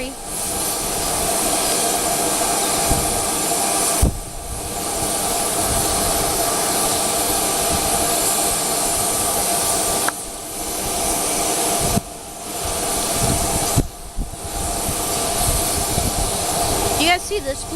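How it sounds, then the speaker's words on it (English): A loud jet aircraft engine roars steadily at an airport, broken by a few short gaps, with a person talking over it. "You guys see this plane?"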